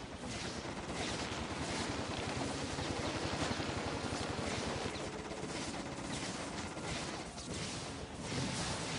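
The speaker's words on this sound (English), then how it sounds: "Do I have to fight the helicopter again?" Rapid gunfire and explosive bursts fill a helicopter attack in the inFAMOUS 2 video game, a dense, continuous barrage with no speech over it.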